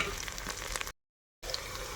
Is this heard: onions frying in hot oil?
yes